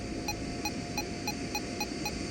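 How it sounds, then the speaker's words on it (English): Warning signal in an audio game where an aircraft is targeted by sound, a series of six short evenly spaced high beeps pulsing about every third of a second over a low hum. "To be on the safe side, a warning signal sounds."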